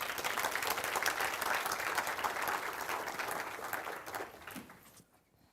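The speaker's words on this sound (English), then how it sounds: "applause." Audience applause at the SensUs 2025 competition's general opening, a dense, steady wash of many hands clapping that fades out over the last second into near silence.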